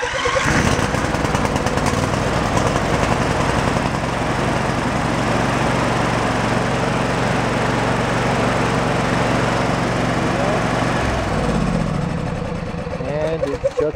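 A Briggs & Stratton V-twin engine runs steadily at a loud, constant drone, then shuts off abruptly near the end, its rumble dropping away to quiet.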